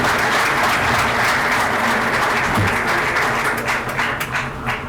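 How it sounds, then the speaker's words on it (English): Sustained, dense applause from a crowd at a Bryant Bulldogs Hall of Fame unveiling honoring student athletes, steady and full throughout before easing slightly at the end. "How about a nice round of applause for all of our Bulldog student athletes?"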